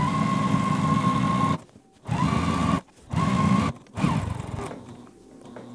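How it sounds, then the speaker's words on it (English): A sewing machine stitches quilted pillow fabric in close, loud bursts of rapid whirring, stopping and restarting several times as it backstitches and then carries on sewing, with no voices. "I'm going to backstitch, and then I'm going to keep going."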